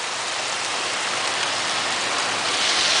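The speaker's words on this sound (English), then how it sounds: "this is just summer rain." Summer rain falls steadily in Tacoma, Washington, an even, close wash of drops that holds at full strength throughout and swells slightly near the end.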